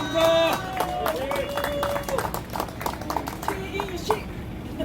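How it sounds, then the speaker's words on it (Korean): Applause rises from an outdoor rally crowd in Seoul, uneven bursts of clapping with shouts and chatter mixed in, moderately loud and close, with voices throughout. "큰 박수 부탁드립니다"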